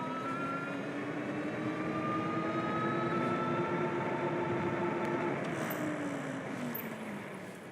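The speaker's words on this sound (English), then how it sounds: "I hear the drone, but I think it's having a little bit of a hard time going 20 miles per hour" A HoverAir X1 pocket drone flies steadily behind a moving camera operator at around 20 mph, its rotor whine a continuous tonal hum with rising and falling harmonics over rushing wind noise, fairly loud throughout without speech.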